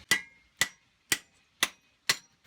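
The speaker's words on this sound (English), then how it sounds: "I don't ever recall ever having to hammer a brake pad out of a caliper bracket." Five sharp metallic hammer strikes knock a brake pad out of a caliper bracket on a 2002 GMC Sierra, in an even rhythm about half a second apart, each ringing briefly before the next blow.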